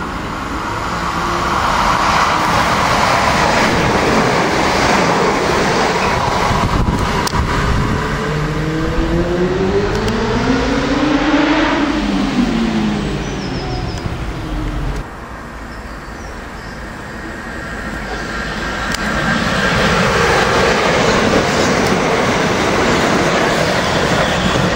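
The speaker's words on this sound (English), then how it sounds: "The approaching train is not scheduled to stop at this station." A train thunders through a Wivelsfield station platform without stopping, a loud sustained roar with rhythmic wheel clatter, a Doppler sweep as it passes, then rushing noise.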